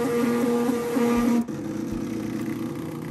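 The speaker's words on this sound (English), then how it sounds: "when I was doing this test run, I realized how loud this printer is" A large hanging 3D printer, the Hangprinter v3, runs a test with a loud steady motor hum and whine that shifts pitch and drops abruptly partway through, then continues as a lower drone.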